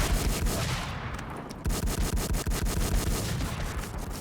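Rapid, loud bursts of automatic fire from a powerful VIP gun in the shooter game WarZ, with shots cracking in quick, steady succession and a dense rattle throughout.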